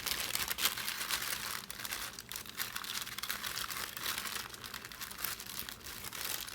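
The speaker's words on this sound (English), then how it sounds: "And then we just smush the paper right on in there." Paper pressed and smushed by hand onto glued foil for a recycled-craft treasure chest, giving a steady close crinkling and crunching that runs without pause and with no speech.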